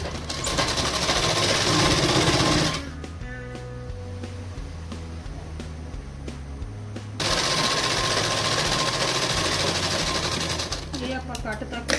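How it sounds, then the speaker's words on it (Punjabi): Electric sewing machine stitching a salwar belt, running in loud, close bursts of rapid mechanical chatter with a quieter pause in the middle, then resuming. "ਇੱਥੋਂ ਤੱਕ ਆਪਾਂ ਸਲਾਈ ਲਗਾਵਾਂਗੇ ਦੋਨਾਂ ਸਾਈਡਾਂ ਤੇ"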